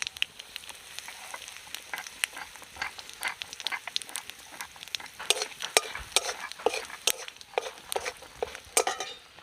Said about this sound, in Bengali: ফোড়ন দিয়ে দেবো তেজপাতা, শুকনো লঙ্কা আর জিরে, আর তার সাথে দেবো হিং।